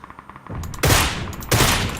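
Rapid bursts of automatic gunfire in the battle royale game PUBG crack out loud and close in two heavy volleys over lighter shots.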